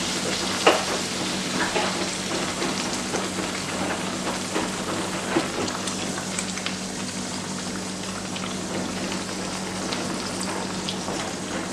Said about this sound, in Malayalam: ഇതുപോലെ ബാക്കിയുള്ള പൂരികൾ ഞാൻ ഫ്രൈ ചെയ്തെടുക്കട്ടെ